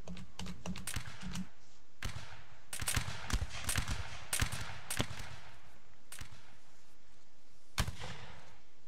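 Musket volleys ring out in a line-battle game as sharp, distant cracks. They come in separate, uneven bursts, with a few crackling clusters and isolated reports spread across the stretch. No voices are heard.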